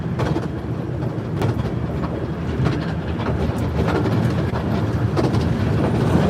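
A Romney Hythe and Dymchurch Railway train runs along, giving a steady, dense rumble with rattling wheel clatter heard from on board and no pauses.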